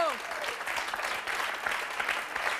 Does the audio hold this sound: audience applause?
yes